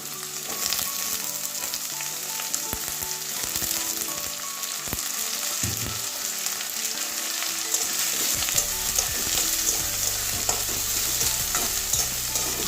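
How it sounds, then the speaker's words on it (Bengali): Washed, cut potatoes added to fried onions in a pan, a loud continuous sizzle with frequent scraping and stirring knocks close up, no voices. "আলু পেঁয়াজ ভেজে নেবো কিছুক্ষণের জন্য"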